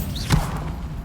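A Bombarda spell blast cast in Hogwarts Legacy, a single sharp whooshing thump after a short rising whistle, then a dull fading tail.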